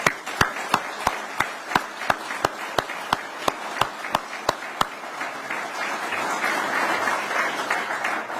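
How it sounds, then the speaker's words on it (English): Applause from an audience at a government announcement on broadband expansion, opening with a run of sharp, evenly spaced claps that stop about halfway through, leaving a broader wash of crowd clapping and murmur. "Give them a round of applause."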